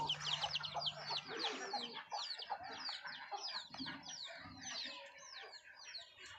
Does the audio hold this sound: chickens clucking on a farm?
yes